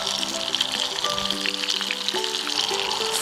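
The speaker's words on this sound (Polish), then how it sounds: "Zrobimy dla niej miejsce i też będzie się smażyć." Food fries in a pan, a constant sizzle and crackle running the whole time with scattered pops, along with faint tonal sounds, and no one speaks.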